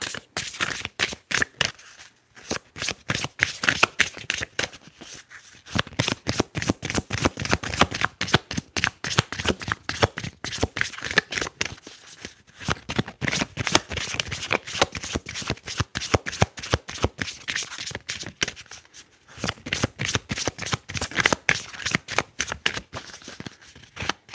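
A deck of tarot cards is shuffled close to the microphone in rapid crisp riffles and flicks, running in long bursts with short pauses between them and no talking.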